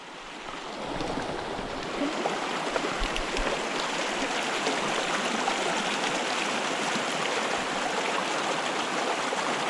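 A small brook trout creek flows steadily at a summer campsite, a close, full, continuous rush of water that stays even throughout with no voices.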